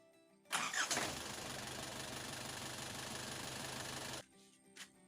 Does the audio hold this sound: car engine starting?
yes